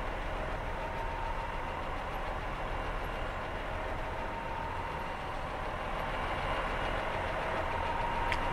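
A Pacer diesel train idles in Train Simulator 2019, a steady low rumble with a rough, throbbing texture that holds at a constant level throughout, close and without speech.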